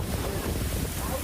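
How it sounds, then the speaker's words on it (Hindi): Strong storm wind roars steadily and loudly, a dense broadband rush with low buffeting against the microphone and no clear pauses. "तेज हवाएं भी चल रही"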